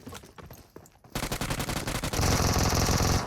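Rapid automatic gunfire in the mobile battle-royale shooter PUBG Mobile, sparse at first, then a dense, loud, sustained burst of fire that grows heavier toward the end, with no talk over it.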